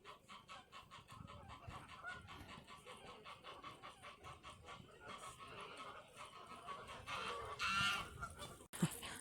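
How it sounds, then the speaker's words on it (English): Canada geese honk repeatedly in a park, a steady rhythmic chorus of many birds at mid distance, swelling louder near the end with a few sharper calls. "Look at the amount of Canada geese."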